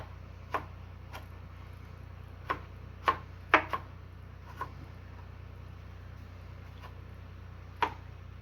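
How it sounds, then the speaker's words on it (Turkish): A knife chopping tomatoes on a board, heard as sparse, irregular sharp taps, about ten over several seconds, close and fairly quiet against a low steady hum. "Çok minnacık doğramıyorum. Domatesi tamamen öldürmüyorum."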